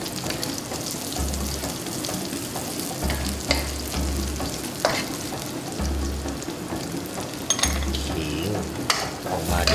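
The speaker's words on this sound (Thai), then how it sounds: "การผัดกับน้ำมันอย่างนี้เนี่ยทุกอย่างก็คือเพื่อได้ความหอม กับรสของเครื่องเทศอย่างนี้" Spices sizzle and fry in hot oil in a wok, with steady crackling frying noise and occasional clinks and scrapes of stirring throughout, no voices.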